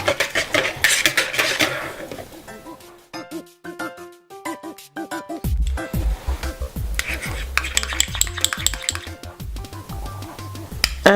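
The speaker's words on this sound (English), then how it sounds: "Then add the kefir with the vanilla extract. I'm mixing that in." Kefir and vanilla extract are mixed into beaten eggs in a bowl for carrot cake donut batter, giving busy, rhythmic clinking and scraping from a utensil against the bowl, close and fairly loud, over a steady background of music.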